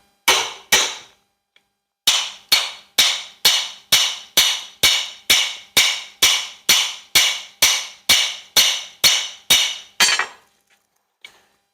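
A hammer strikes a universal joint installed since 1990, driving it out in a long run of sharp, ringing metallic blows at a steady rhythm, about twenty hits, close and loud.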